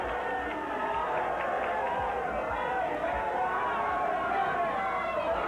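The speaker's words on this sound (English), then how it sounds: "The fans are booing him" A wrestling arena crowd at a 1984 International Wrestling event booing a wrestler, a steady roar of many voices filling the hall, with a commentator talking over it.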